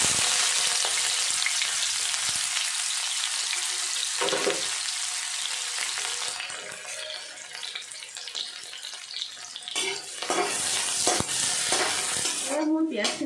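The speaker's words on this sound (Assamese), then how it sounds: "গোটা জিৰাখিনি ফুটি উঠাত মই ইয়াতে দিম এতিয়া সৰু সৰুকৈ কাটি লোৱা পিঁয়াজখিনি।" Chopped onions hit hot oil with whole cumin seeds in a pan, giving a strong close sizzle and frying hiss that fades somewhat mid-way, then returns with brief clattering of a utensil against the pan.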